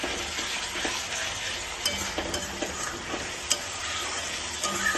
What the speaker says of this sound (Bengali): এইভাবে ভালোভাবে কষিয়ে নিতে হবে ধনে পাতা বাটা, রসুন আর টমেটো বাটা দিয়ে।